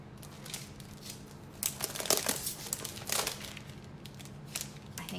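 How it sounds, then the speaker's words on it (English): Thin decorative foil sheets crinkle and crackle as they are handled, in irregular bursts of rustling that swell in the middle and taper off, close and fairly quiet with no talking. "Let me show you the foil that comes with this"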